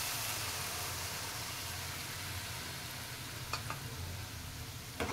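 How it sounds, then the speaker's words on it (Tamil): Boiled potatoes and peas go into a sautéed reddish masala for a potato-pea kootu, giving a steady low sizzle, with a couple of brief scraping stirs near the end. "கொட்டி எல்லாத்தையும் நல்லா ஒன்றா கிண்டி விடணும்"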